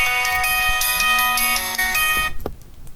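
A mobile phone rings with a bright electronic melody, loud and close, for about two seconds before cutting off, during a computer lesson.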